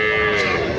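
A buffalo lows at a cattle market in Gangadhara, one loud, close, sustained moo that fills the short moment with no talk over it.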